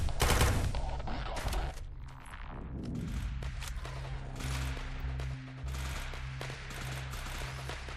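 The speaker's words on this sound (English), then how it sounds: "I'm not really a big fan of the assault rifle" Assault rifle fire in the VR shooter Quantum Threshold, with dense bursts of rapid shots running through the whole stretch, loud and close under a steady low game hum.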